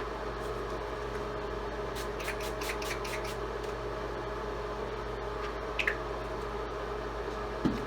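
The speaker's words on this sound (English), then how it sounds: "So last but not the least is our setting spray." Several short, quick hissing bursts of makeup setting spray in a rapid series over a steady background hum, followed later by a couple of faint isolated hisses.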